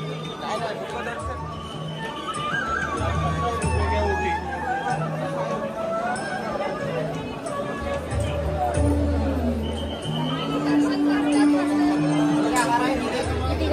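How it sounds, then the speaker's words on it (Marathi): Morning crowd of devotees at the Mahalaxmi temple in Kolhapur makes a continuous murmur of overlapping voices and shuffling, with nearby chatter steady throughout. "किती गर्दी आहे बघितलं, सकाळी असून पण इथे भरपूर गर्दी आहे बघा"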